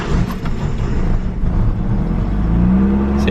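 A Toyota Cressida engine, set up in bosozoku style, runs rough after starting, a loud close low rumble and whir with uneven throbbing that holds steady throughout, with no talking.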